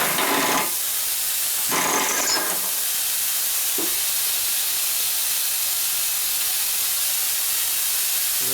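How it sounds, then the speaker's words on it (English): An air leak hisses steadily from a 1965 Harley-Davidson 74ci FLH panhead motor on a workbench, a continuous loud hiss punctuated by a couple of brief stronger bursts near the start. "A little air leak over there."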